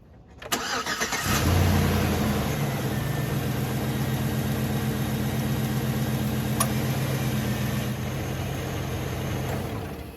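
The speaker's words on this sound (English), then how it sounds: "All right, I'm going to start it up real quick." A 5.3L V8 in a Trailblazer cranks briefly, catches and settles into a steady, loud idle with an even hum and no misfire, running alone with no talk.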